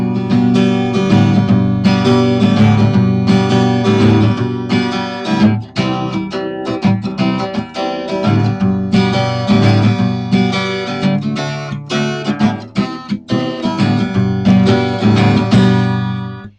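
Twelve-bar blues chord progression strummed on a guitar, steady repeated chords looping through the whole stretch, loud and close with no talk over it.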